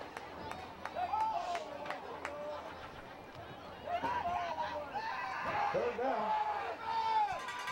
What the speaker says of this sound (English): Very passionate crowd here tonight.